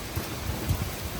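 Steady rain with wind during a thunderstorm, a dense continuous hiss with a few soft low rumbles of distant thunder.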